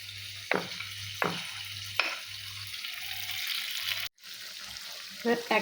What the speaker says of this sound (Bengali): এইগুলো ভাজার সময় গ্যাসের জোরটা একটু কমিয়ে দিতে হবে